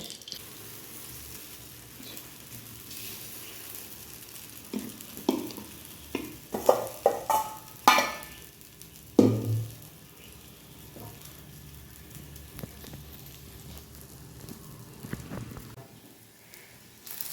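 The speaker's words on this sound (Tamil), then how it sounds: "குழிப்பணியாரம் சட்டியில் இப்போ எண்ணெய் ஊற்றி வச்சுருக்கேன்" Dosa batter mixed with onion frying in oil in the cups of a paniyaram pan, a steady close sizzle with a few louder spattering bursts and scraping stirs midway, no talking.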